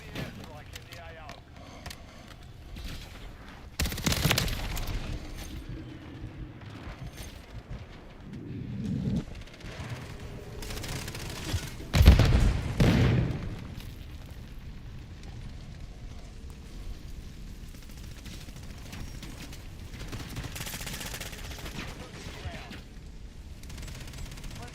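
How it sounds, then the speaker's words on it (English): Airstrike explosions in Call of Duty Modern Warfare III roll in as a few heavy, distant booms spread across a noisy battlefield, the strongest near the middle, with a radio voice speaking over the scene. "Friendly airstrike in the AO."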